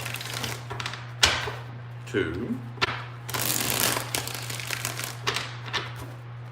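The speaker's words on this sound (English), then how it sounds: "let's get 4 shuffles" Tarot cards are shuffled in quick riffles and slaps during a reading, with a person counting aloud between bursts over a steady low hum.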